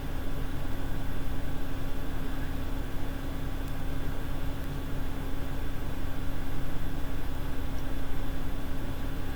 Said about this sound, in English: I have a fan running out in my living room